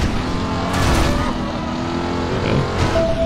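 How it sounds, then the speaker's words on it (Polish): Continuous engine roar of a Camaro SS in the video game Driver San Francisco, with shifting revs and passing rumble, loud and busy, with a faint voice mixed underneath. "Dźwiękach samochodów oczywiście."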